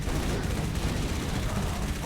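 Assault rifle fire in the video game Halo: ODST, a continuous dense rattle of rapid shots held at steady loudness for the whole stretch, with no pauses.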